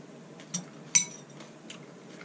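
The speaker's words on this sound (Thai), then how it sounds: "I didn't have any cold beer, so I had to put it on ice" Beer going onto ice, with two light glassy clinks close by, one small and one sharper, then faint further taps against a quiet background.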